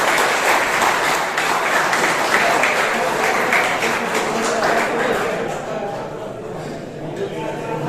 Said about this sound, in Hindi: इसके लिए मैं चाहता हूं आप लोग अपने अच्छे रिजल्ट के लिए एक बार तालियां हो जाए